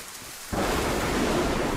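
Heavy rain with thunder erupts abruptly after a quiet moment, a loud, dense roar of rainfall and rumbling that continues steadily to the end.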